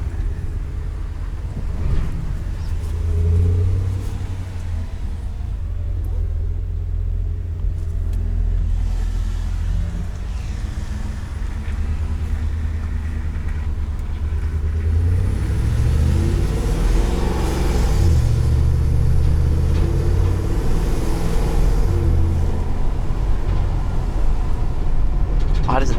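2021 Ford F-550 Super Duty dump truck with the 7.3L engine driving, a deep continuous drone with low rumble that rises and falls with throttle, alongside road and wind noise and someone talking at times.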